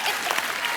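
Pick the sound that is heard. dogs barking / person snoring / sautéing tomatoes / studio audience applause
studio audience applause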